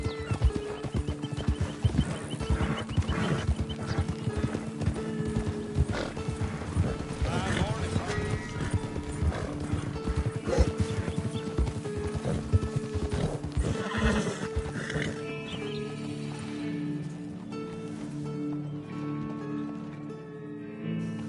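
Horse hooves clip-clop steadily in Red Dead Redemption 2, with a clear neigh and whinny breaking through, the hoofbeats close and rhythmic before settling into quieter ambience.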